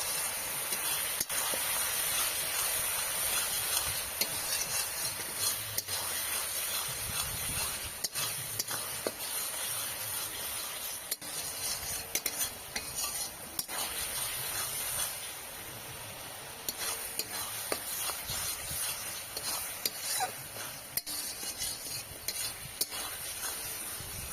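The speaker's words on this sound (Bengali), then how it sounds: "এবারে এটাকে ভালো করে মশলাটাকে কষিয়ে নিতে হবে।" Spice masala mixed with sour yogurt is stir-fried in a pan, giving a steady close sizzle and hiss with scraping stirs running throughout, and no talking.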